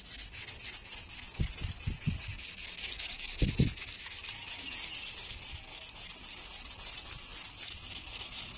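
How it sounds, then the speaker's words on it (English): Carbon fiber being wet-sanded by hand with 2000 grit sandpaper: a close, steady rubbing hiss with a few heavier back-and-forth strokes standing out, and no talking. "So this is 2000 grit sandpaper."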